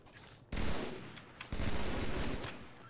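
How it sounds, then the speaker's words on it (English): Battle rifle gunfire in an Xbox video game: two dense bursts of rapid shots, each lasting about a second, loud and close with no talk over them. "We have battle rifles."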